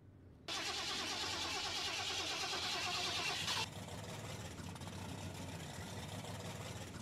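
A Reaper mod truck engine in SnowRunner cranks and fires into a loud rough roar, then settles to a steady lower idle rumble.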